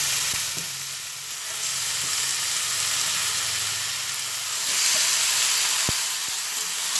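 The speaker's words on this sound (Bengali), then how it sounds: "সেই জল ঝরানো মুরগির মাংসটা দিয়ে দিচ্ছি।" Drained chicken pieces for a Murg Malai hit hot oil in a pan and fry with a steady, close sizzle and hiss, with occasional clinks and scrapes of stirring and a sharp knock near the end.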